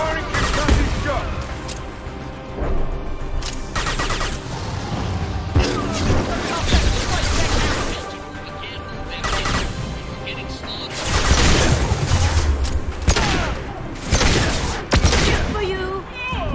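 Rapid bursts of video-game gunfire, loud and close, with repeated volleys and crashing impacts across the whole stretch, a voice speaking now and then beneath the shooting.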